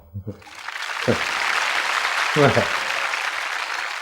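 An audience at a spiritual health discourse bursts into sustained clapping after a few words from a speaker, a dense, steady wash of many hands that holds to the end, with a voice cutting in briefly.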